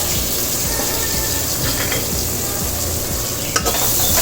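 Egg and vegetables with onion and tomato fry in a pan for egg noodles, giving a loud, steady sizzle close by, broken by a scraping stir and a sharp utensil clack near the end.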